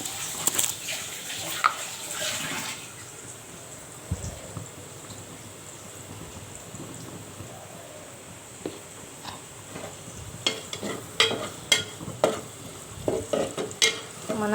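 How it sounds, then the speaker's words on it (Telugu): Browned onions with turmeric fry in a pan for a soya chunk dish, a soft sizzle under scraping stirs that grow quicker and louder toward the end. "ఈ ఉల్లిపాయ బ్రౌన్ కలర్ వచ్చేంత వరకు వేగిన తర్వాత కొంచెం పసుపు వేస్తున్నాను"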